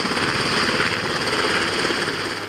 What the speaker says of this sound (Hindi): शांत समंदर में दहाड़ते हेलीकॉप्टर की ये तस्वीरें